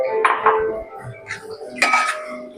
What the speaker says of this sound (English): And keep on stirring.